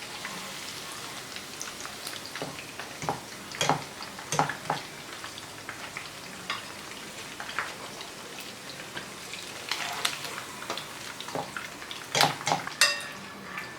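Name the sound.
fried chicken lifted out of hot oil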